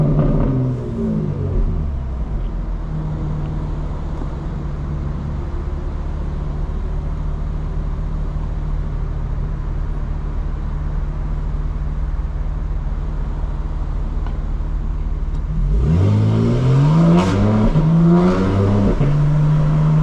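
A 2025 BMW M4 Competition xDrive drones steadily at cruising speed on a night drive, then its engine note climbs sharply under hard acceleration near the end, loud and close from inside the car.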